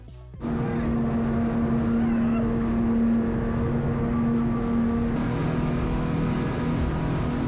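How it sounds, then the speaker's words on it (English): A speedboat crosses open sea in the Maldives on a bumpy ride, its engine droning steadily and loudly throughout with rushing water and wind noise. "we had to take a 45-minute speedboat ride, which was arguably bumpy"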